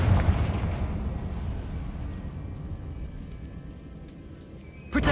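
Blasting-spell explosion in the Hogwarts Legacy video game, heard as a continuous loud rumbling boom with dense low-end roar that holds steady for several seconds before a sharp new burst near the end.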